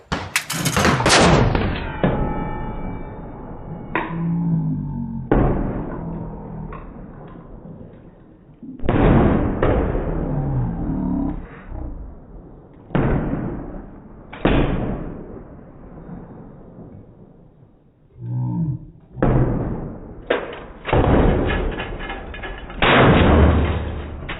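A Molot Vepr 12 semi-automatic shotgun fires at an outdoor range: about eight to ten loud, sharp blasts, spread irregularly with some close pairs, each followed by a short echoing tail and no talking.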